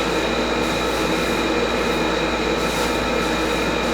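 A 1985 Honda CMX 450 Rebel with a faulty starter clutch cranking, giving a steady, dense mechanical whirring and grinding drone with a metallic ring, loud and unbroken throughout.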